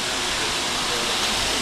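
Floodwater from a rare December flash flood in Orange County pours down like a waterfall, a steady, loud broadband roar with no breaks through the whole moment.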